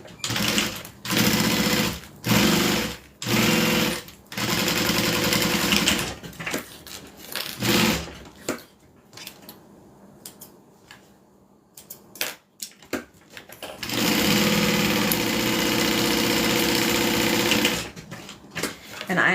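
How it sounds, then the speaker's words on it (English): An industrial sewing machine top stitching a bag runs in loud bursts, whirring runs separated by short pauses, with a quieter stretch of handling noise in the middle before a long final run. "It's an industrial sewing machine."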